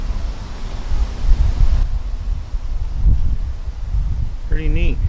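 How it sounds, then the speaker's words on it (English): Wind gusting outdoors at a spot on a nature walk, a steady low rumbling buffet across the microphone with louder surges, ending with a brief faint bird-like chirp. "It's always windy right at the spot."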